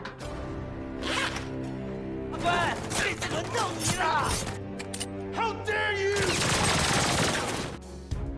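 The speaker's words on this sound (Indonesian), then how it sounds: "mendengar suara tembakan dari arah dalam" Gunfire breaks out inside a courthouse in an action film, heard as bursts of sharp rapid shots with mechanical clatter and thuds, mixed with a music score and brief voices.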